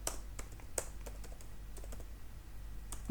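Keys tapped on a computer keyboard while a Laravel terminal command is entered, about a dozen scattered clicks over a steady low hum, fairly quiet and close, with no voices.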